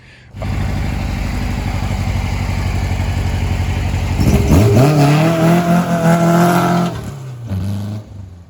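A Porsche 912 with its muffler dragging from burnouts idles with a loud, lumpy rumble, then revs hard in rising surges with a brief tire squeal before easing off, close and with no talk.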